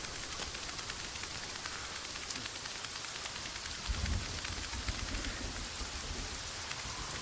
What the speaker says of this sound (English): This rain is so loud, I can't even hear myself.